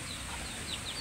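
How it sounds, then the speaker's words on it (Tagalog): Chicken clucking somewhere in the yard of a small home, faint and intermittent over steady outdoor background noise. "Ayan yung manok niya."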